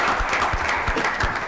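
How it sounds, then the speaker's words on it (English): Brief applause from the audience at a Waukegan city council meeting, a short steady patter of clapping across the room. "Let's give them a round of applause, everybody."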